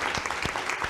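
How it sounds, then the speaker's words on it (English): An audience at a school board meeting applauds a student honoree with a brief burst of steady, dense clapping that fills the room. "let's give her a round of applause"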